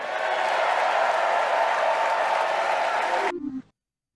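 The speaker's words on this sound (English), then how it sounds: "And the crowd went crazy for it." Large crowd applauding and cheering at a political rally after a speech line about military strength, a dense steady roar that holds loud and then cuts off abruptly.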